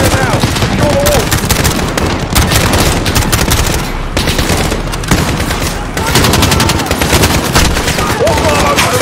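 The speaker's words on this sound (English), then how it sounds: "We're taking fire from the residence." Dense, loud automatic gunfire rattles continuously in the Call of Duty Modern Warfare campaign during an embassy firefight, with bursts overlapping, short gaps, and shouted voices mixed under the shooting.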